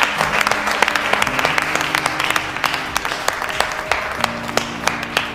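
Single person applauding in The Dark Knight's detention scene: the Joker, played by Heath Ledger, claps slowly and steadily, sharp distinct claps over a low, tense musical score.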